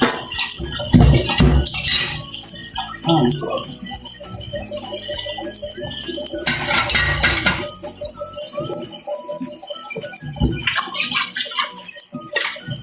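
Dishes washed by hand in a small old sink under running tap water, a loud steady gush with intermittent clatter and rattling of plates and utensils close by.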